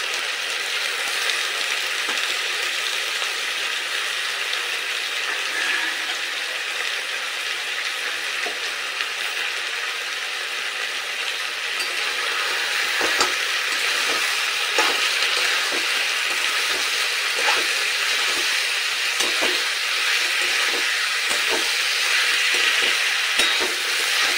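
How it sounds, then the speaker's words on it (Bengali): Chicken pieces with spices fry and sizzle steadily in a pan for a Bengali-style desi chicken curry, with a constant hiss, occasional stirring scrapes joining in the latter half, and no talk. "এবার একই সাথে দিয়ে দেব মাংসের টুকরোগুলো, যাতে সমস্ত কিছু একসাথে কষানো হয়ে যায়।"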